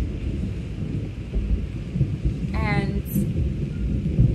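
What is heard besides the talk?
thunder during rain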